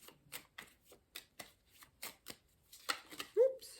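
Tarot cards being shuffled and drawn by hand, a series of soft, separate riffling flicks and slaps close by, spaced irregularly and ending with a slightly louder snap.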